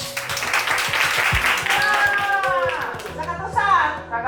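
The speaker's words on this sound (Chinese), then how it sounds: "先给自己掌声一下好不好？" Participants at an indigenous-language summer camp break into scattered clapping mixed with cheers and excited voices, a lively near burst of applause that fades into chatter and shouting.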